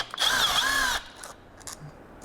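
A power drill driving out the bolts of a motorcycle clutch pressure plate on an MV Agusta F3 gives one steady, close whir lasting about a second, then stops into near silence.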